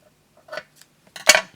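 Scissors snip through scrapbooking paper in two short, crisp cuts, the second louder, close by in an otherwise quiet room.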